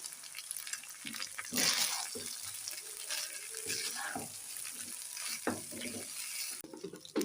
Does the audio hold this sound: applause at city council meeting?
no